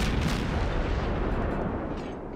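Warship guns fire in World of Warships with a heavy, close boom that rolls into a dense, rumbling roar and slowly fades, with no talking over it.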